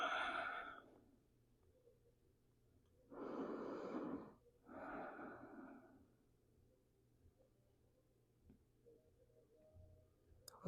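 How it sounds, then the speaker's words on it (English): Slow, deep breaths drawn in through the nose and let out through the lips during a calming yin stretch, two soft airy exhales about a second long each, close and quiet, followed by near silence. "take a slow, deep inhale through your nose and a slow, deep exhale out through your lips"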